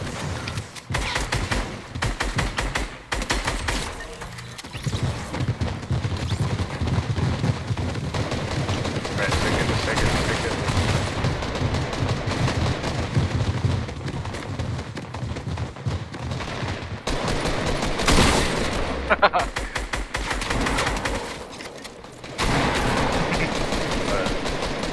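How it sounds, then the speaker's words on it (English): Rapid bursts of gunfire from a Fortnite-style shooter game montage, loud and near, crackling almost continuously with a few brief gaps, mixed with game effects and occasional voices talking over it. "Dude, I'm getting shot from castle."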